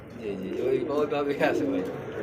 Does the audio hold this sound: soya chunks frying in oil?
no